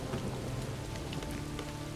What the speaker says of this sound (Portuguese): Tá chovendo pra cacete no jogo.